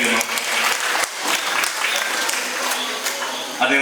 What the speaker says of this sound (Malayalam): ഏറ്റവും സ്നേഹത്തോടെ ഒരു നല്ല കൈയടിയോടെ സ്നേഹബഹുമാന ആദരവോടെ ഈ ആദരവ് ഏറ്റുവാങ്ങുന്നതായിട്ട് ക്ഷണിക്കുന്നു